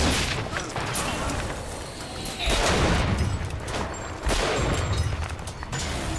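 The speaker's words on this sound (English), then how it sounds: "they're shooting some sort of missiles" Enemies firing missiles in the shooter game Bioshock Infinite: loud, dense bursts of blasts and gunfire that swell sharply around the middle and again toward the end, filling the scene with continuous battle noise.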